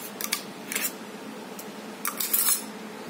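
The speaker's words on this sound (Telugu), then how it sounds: "ఇలా బాగా మిక్స్ చేసుకోవాలి." A spoon stirs ground cumin paste into idli batter, giving a few short scraping and clinking bursts against the bowl, quiet and spaced apart with no talking.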